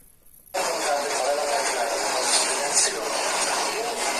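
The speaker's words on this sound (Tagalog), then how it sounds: "Yan ang aeroplano." An airplane passes overhead. Its broad, steady roar swells in suddenly and holds loud throughout, with voices talking underneath.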